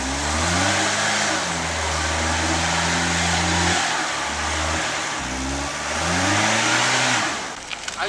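A car engine revs hard and steadily while climbing a steep hill, pitch rising and falling through repeated throttle surges, loud and close with no talking.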